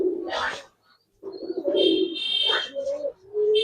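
Giribaz pigeons coo in a few soft, repeated rolling calls, close by, with brief gaps of quiet between them.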